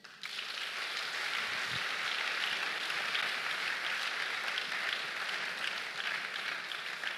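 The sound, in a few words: congregation applauding in church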